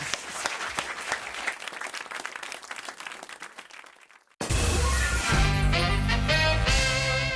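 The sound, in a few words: audience applause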